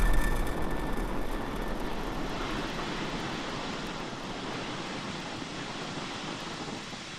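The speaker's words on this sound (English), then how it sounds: "Falcon 9 has successfully lifted off from SLC-4E at Vandenberg Space Force Base in California." Falcon 9 rocket lifting off from SLC-4E at Vandenberg Space Force Base, California, a sustained broadband roar that starts loud and settles into a steady rumbling wash with no voices.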